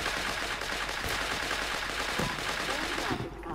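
An Uzi fires in Creative Destruction, a dense, steady stream of rapid shots that runs almost the whole time before it stops abruptly near the end.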